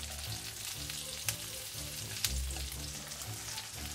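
Korean jeon pan-frying on low heat with meat in the batter, a steady close sizzle and crackle with a few soft stirring or flipping knocks, no talk.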